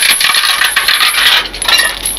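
Metal safety chains being attached to a tow truck at night, giving a bright, continuous clinking and jingling rattle up close with short bursts of loose links.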